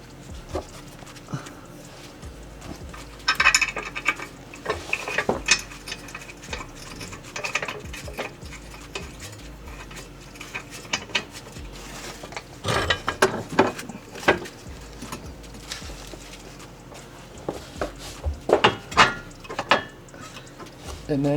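A ratchet with a 17 mm socket tightens control arm bolts during a Lexus IS300 suspension refresh, giving bursts of rapid clicking that start and stop in short runs, close by, with occasional speech.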